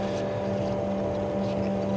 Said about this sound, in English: I have a shop vacuum reverse pressurizing the exhaust pipe system